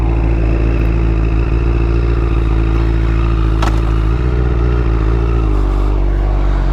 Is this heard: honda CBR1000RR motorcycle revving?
yes